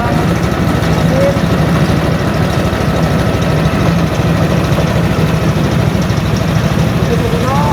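An engine idles steadily nearby with a constant low, rapid throbbing rumble that never changes pace.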